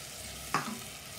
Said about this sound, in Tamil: இப்போ வேக வச்ச பருப்பு நம்ம இதில் போட்டாச்சு.